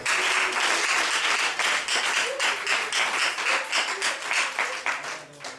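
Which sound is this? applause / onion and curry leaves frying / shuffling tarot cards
applause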